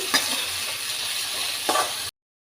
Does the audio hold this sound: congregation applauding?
no